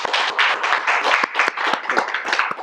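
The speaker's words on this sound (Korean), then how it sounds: "예, 박수 한번 쳐주세요." A crowd claps together in steady, dense applause that carries on throughout without voices.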